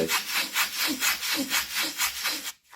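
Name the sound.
sanding a wooden edge with 240 grit sandpaper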